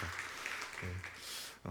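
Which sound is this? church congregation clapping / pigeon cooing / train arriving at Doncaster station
church congregation clapping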